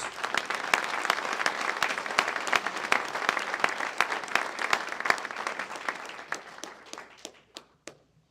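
A round of applause at a county State of the County address: dense steady clapping for several seconds that thins out into a few scattered final claps.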